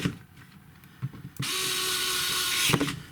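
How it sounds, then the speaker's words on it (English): A power screwdriver drives screws back into the casing of a GHD MK4/MK5 hair straightener during a repair: after a few soft handling clicks, one close, high-pitched whirring burst runs for about a second before stopping. "pop the screws back in."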